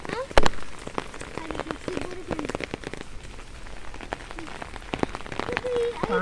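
Rain falling hard onto surfaces, dense irregular patter and splashing drops close by, with faint voices and other indistinct sounds mixed underneath.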